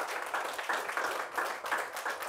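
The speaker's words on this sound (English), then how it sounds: "So a round of applause for Sarah." An audience at a gallery interview event applauds, a dense, steady clatter of many hands at moderate volume, continuous with small surges and no talk over it.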